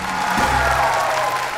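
A studio audience on a Vietnamese TV game show applauds for Jinju, with loud, dense clapping that fills the whole moment without a break.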